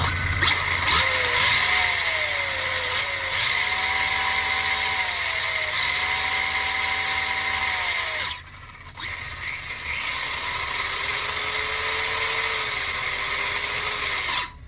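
High-pitched electric motor whine of an RC car at speed, loud and sustained, rising and falling in pitch with a brief dip midway.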